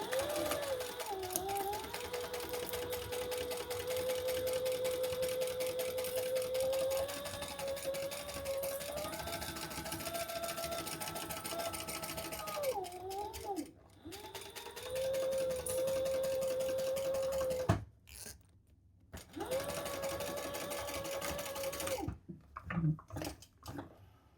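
A sewing machine hums steadily as it bastes a zip in place around a travel wallet, running in long even stretches with brief stops and restarts, close and fairly quiet.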